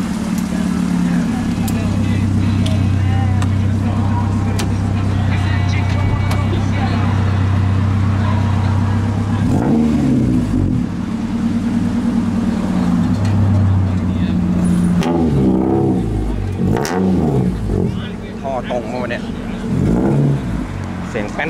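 A Dodge Dakota pickup truck's engine idles loudly, then revs in several swelling bursts through a loud exhaust, up close, while people talk over it.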